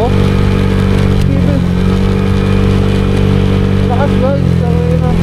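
A Honda Click scooter fitted with a 59mm bore-up engine cruises at high speed. A loud, close engine drone holds steady under wind roar, with a voice talking over it.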